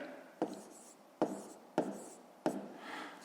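A pen writes a maths solution for a fifth-grade exercise, four sharp strokes tapping down on paper at uneven intervals, each followed by a short scratchy trail, quiet and close.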